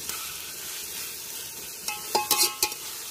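Ginger garlic paste and onions fry in oil for a village-style chicken biryani, giving a steady, soft sizzle with a few sharper stirring clinks and scrapes near the end.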